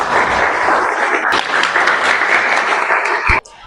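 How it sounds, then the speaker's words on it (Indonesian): Audience applause in a classroom-style session, dense steady clapping from a group that runs loud and continuous for over three seconds before cutting off abruptly near the end. "Kita beri tepuk tangan untuk"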